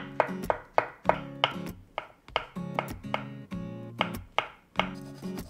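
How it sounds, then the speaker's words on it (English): A kitchen knife chops green onions and shiitake mushroom caps on a cutting board, giving a quick, steady series of crisp, close knocks with bright ringing edges, about two strikes per second with no voices. "Mince 2 green onions into small pieces."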